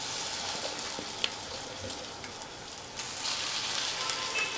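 Ground green pea paste sizzles in hot oil with asafoetida, a steady close crackling fry with a few small pops, no voices.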